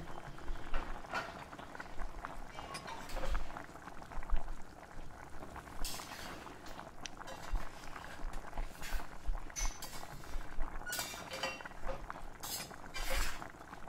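Fish head curry bubbles steadily in a covered-then-opened pan, a continuous close boil with soft pops and the occasional clink of a utensil.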